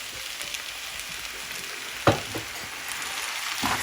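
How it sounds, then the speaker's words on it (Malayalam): Sauce poured over chicken chow mein noodles in a hot pan, giving a steady close sizzle with one brief louder splash and crackle as it lands. "നമുക്കിതിൻ്റെ മുകളിലേക്ക് നമ്മുടെ നേരത്തെ നമ്മൾ മിക്സ് ചെയ്ത് വെച്ചിരുന്ന നമ്മുടെ സോസ് ഒഴിച്ചു കൊടുക്കാം"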